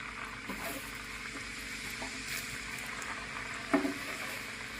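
Evening snacks frying in hot oil on a home stove, heard as a steady, soft sizzle and bubbling with a faint clunk of a utensil partway through, close and fairly quiet.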